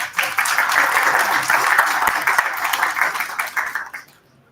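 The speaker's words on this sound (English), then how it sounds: "let us give them a huge round of applause" Loud, dense applause from an audience for panel guests at a session on India's economic journey, continuous clapping that fades out quickly near the end.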